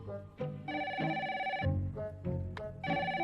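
A telephone rings with an incoming call in a French animated children's series, sounding as repeated electronic trilling bursts with short gaps between them, moderately loud and alone without voices.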